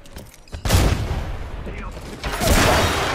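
Grenade blast in Apex Legends, a sudden loud burst followed by rumbling debris and a second heavy surge, close by, with gunfire crackle mixed in and voices nearby.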